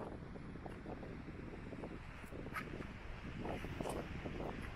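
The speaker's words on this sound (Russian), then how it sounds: "как вы, возможно, слышите сейчас по шуму, это не только ветер, но еще и волны" Steady wind buffeting the microphone with a constant roar of ocean waves at Flinders Blowhole on the Mornington Peninsula in Victoria, Australia, a broad, continuous rush with occasional faint crashes of surf.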